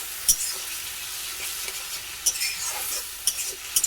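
Kashmiri red chilli powder, spices and ginger paste sauté in a pan for a cabbage curry, a constant soft sizzle broken by repeated sharp spatula scrapes and stirring knocks.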